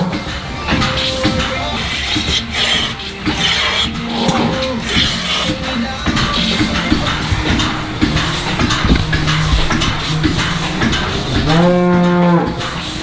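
Dairy cows moo repeatedly before morning milking, several loud, drawn-out calls overlapping close by in a barn, with a steady background hum and clatter throughout.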